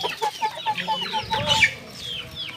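Chickens cluck repeatedly at close range on a farm in Penedo, Alagoas, among them a cross between an Índio Gigante rooster and a common hen, with overlapping calls in an uneven rhythm over a low rustling background.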